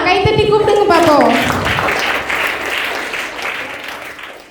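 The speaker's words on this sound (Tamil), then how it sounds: "கைத்தட்டி கூப்பிடுங்க பார்ப்போம்." An audience at a Christmas program breaks into steady applause, loud and close, following a voice that addresses the crowd at the start, then continuing for several seconds as the clapping slowly thins.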